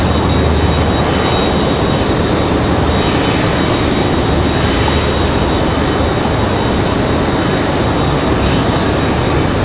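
Airplane on the runway at Raleigh-Durham International Airport, a loud, continuous broadband engine roar that holds steady throughout with no voices.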